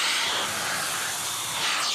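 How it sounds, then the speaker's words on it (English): A Rowenta steam iron releases a continuous, loud, swooshing hiss of steam that stays dense and even for about two seconds. "that swooshing sound of the steam iron that you hear"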